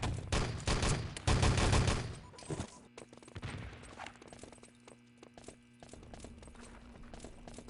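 Rifle grenade and gunfire in Enemy Territory: dense rapid shooting and blasts dominate the first few seconds, then thinner scattered shots and game noise continue at a lower level.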